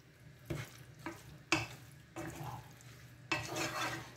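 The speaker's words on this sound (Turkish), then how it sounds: "Şöyle bir karıştırıyorum hepsini." A spoon stirs a seasoned chicken mixture with dried mint in a pan, giving five or six separate scraping sweeps with faint sizzling between them, close by and fairly quiet.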